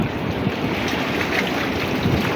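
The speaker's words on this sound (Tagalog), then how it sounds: "Oh, lalaki ng alon." Large, rough sea waves wash and churn around a small fishing boat, a steady close roar of water and wind filling the whole stretch with no voices.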